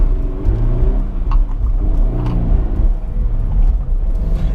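Subaru BRZ with a manual transmission driving along, its engine a steady low rumble with mild rises in revs, heard from inside the cabin and continuous throughout.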